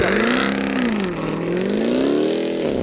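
A Dodge Durango SRT Hellcat accelerating hard on a rally stage, its engine roaring loudly and close, pitch climbing, dipping briefly at a gear change, then rising again.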